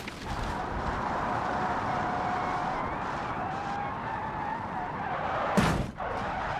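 A car in the BeamNG driving game lands after a long jump and skids, a steady gritty scraping roar that holds for several seconds before a sharp crunching impact near the end, with no talk.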